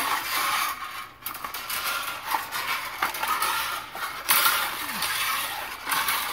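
A steel fish tape feeding forward and spooling into electrical conduit, a steady metallic scraping and rattling hiss that runs continuously at close range with small clicks and shifts in intensity.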